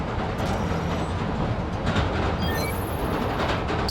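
Subway train in Spider-Man: Miles Morales clattering past, a continuous rolling rumble with wheel clatter and brief high metallic squeals, loud and close, no talking.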